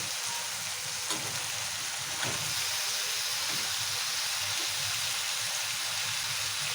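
Chopped tomatoes fry with fenugreek leaves in hot oil, giving a steady, close sizzle and hiss that runs without a break, with faint stirring scrapes underneath and no talking.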